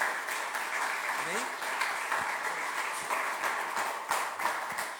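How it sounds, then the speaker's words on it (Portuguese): A church congregation applauds together, a fairly faint, steady wash of many hands clapping for the whole stretch, with a voice faintly present. "Dá um glória a Deus, aplauda mais uma vez."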